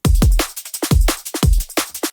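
A punchy liquid drum and bass loop with deep, booming kicks and crisp snares and hats, no low cut applied, repeating in a steady groove with full low end.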